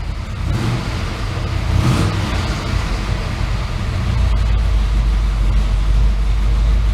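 A Chevrolet S10 truck engine idling while it warms up with the fans off, a loud, steady low rumble close by that deepens slightly partway through, no talk.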